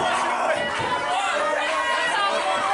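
Live crowd noise from an indoor Riot Pro Wrestling Young Lions Championship match, a steady dense murmur and cheering chatter throughout, fairly loud and continuous without clear peaks.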